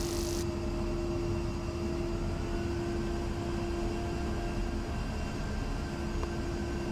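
In the DCS flight simulator, an aircraft engine roars at takeoff as a constant, dense whine and rush with a steady tonal hum. It holds loud and even throughout, with no voices.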